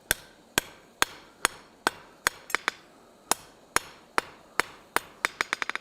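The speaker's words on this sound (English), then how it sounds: "Now this is really just kind of cold forging right now" Hammer blows cold forging a fishtail onto the end of a metal bar, about fifteen sharp ringing strikes at a steady pace, speeding into a quick flurry at the end, close and clear with no talk.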